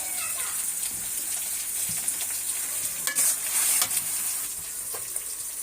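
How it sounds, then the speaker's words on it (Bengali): Spices and tomato frying and being stirred in a pan on a stove, a continuous close sizzle with occasional scraping stirs and brief louder spatters. "এখন আমি যে পাশের চুলায় আমি মশলাটা কষিয়ে টমেটো দিয়ে দিলাম।"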